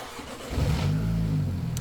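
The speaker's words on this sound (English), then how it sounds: "It's time to turn the car on to see if we connected everything correctly" A 2023 Mini Cooper S engine with a newly installed intake cranks and catches, then settles into a smooth low idle after a brief rev, heard up close.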